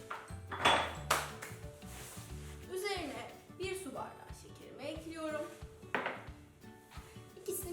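Wheat starch whisked in a metal pot for Turkish rice pudding, with light metallic clinks and scraping taps at close range while someone talks over the sound.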